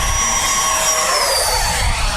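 A Freewing F/A-18C Hornet RC jet with a 90mm electric ducted fan, in Blue Angels livery, flies past on its maiden flight throttled back, a loud, steady high-pitched whooshing whine.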